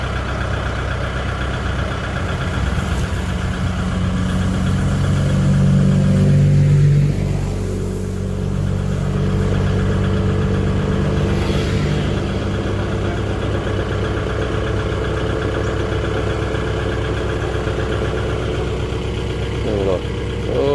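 A farm tractor engine works hard pulling a truck stuck in mud, a steady low diesel drone with a swell of revving partway through, while people talk over it.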